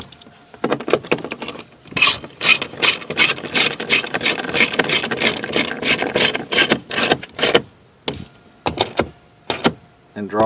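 Ratchet drawing down bolts on a Mitsubishi Eclipse 4G door pull brace: rapid bursts of close, loud clicking and ratcheting strokes, repeated in uneven runs with short pauses between.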